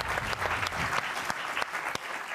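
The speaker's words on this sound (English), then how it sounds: "And the crowd goes wild." A television talk show studio audience claps steadily as a guest is introduced, a close, dense burst of applause with a few sharper claps standing out.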